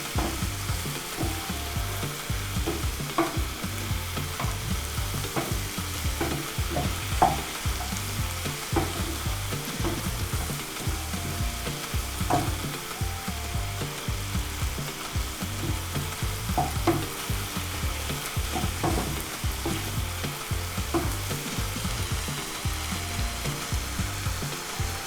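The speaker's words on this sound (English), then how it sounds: "We give the veggies a few minutes to cook before we add in our cornstarch." Chopped vegetables for a chicken curry frying in a hot pan, a steady close sizzle with occasional stirring scrapes and clicks running throughout, no voices.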